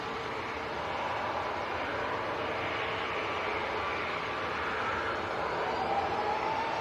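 Ryanair airliner lined up for departure at Manchester Airport in crosswinds, outbound to Bucharest: a steady, broad jet-engine roar that holds loud and unbroken throughout, with no talk.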